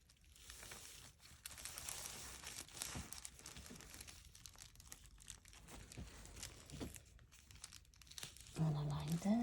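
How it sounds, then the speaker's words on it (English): Masking tape is pulled and torn off the roll while paper crinkles, giving a run of dry rustles and rips, with a short squeaky tearing sound near the end. "let me just grab some masking tape to just temporarily put stuff down"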